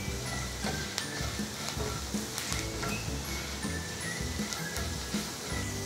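Onions fry in a pan until turning transparent, giving a steady, fairly faint hiss and crackle with a few soft clinks of a spoon, without any voices.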